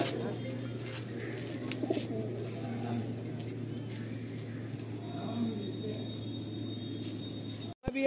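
Madrasi pigeons coo steadily at a loft, a continuous low murmur that runs through the whole stretch at moderate closeness, with faint voices in the background.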